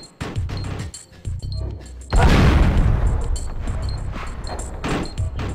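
Grenade blast in Oddworld: Abe's Oddysee: after scattered short thuds and clicks, a sudden loud, close explosion bursts in and rolls on as a long, heavy rumble.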